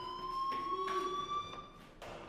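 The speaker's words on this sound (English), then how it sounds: "do you hear that fire alarm?" A fire alarm in the video game Life Is Strange, a continuous buzzing electronic tone with bright overtones, heard at moderate distance with faint thuds and movement underneath.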